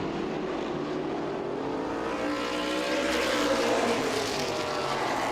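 Street stock race cars at Owosso Speedway: a loud, continuous roar of several engines racing, with pitch sweeping up and down as cars pass and accelerate, filling the whole span without a break.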